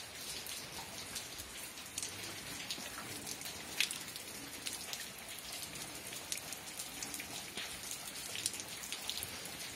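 Light rain patters steadily on surfaces around a rural cattle corral, soft and continuous with scattered crisp drops, no voices.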